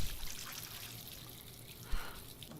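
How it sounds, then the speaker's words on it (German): Water runs and splashes briefly as a face is rinsed in the video game Life Is Strange, a soft pouring trickle with one sharper splash partway through. "So, frisches Wasser ins Gesicht"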